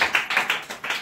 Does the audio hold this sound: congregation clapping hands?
yes